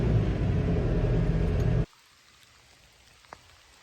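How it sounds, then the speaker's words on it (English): Steady rain on a farm hisses loudly for a couple of seconds, then cuts off abruptly to near silence with one faint tap. "It is raining again. We're expecting a light rain today."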